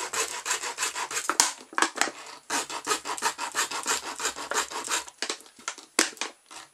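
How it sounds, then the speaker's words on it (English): A plastic pop bottle has its top cut off close by, giving a steady, scratchy rasping with quick rubbing strokes that run unbroken for several seconds and then break into shorter scrapes. "we're just cutting the top off this bottle"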